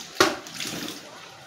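Warm water runs from a household tap in a continuous, close splashing flow, with a brief sharper splash near the start.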